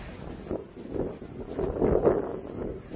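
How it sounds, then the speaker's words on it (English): Strong wind from a derecho storm buffets the microphone outdoors, rising in rough, rumbling gusts across a few seconds with no one speaking. "It is still windy out here."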